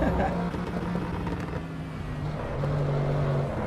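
Audi RS6 engine in a racing game runs as a continuous, fairly loud mid-pitched drone with a steady tone that dips briefly and then returns, heard close with no pauses.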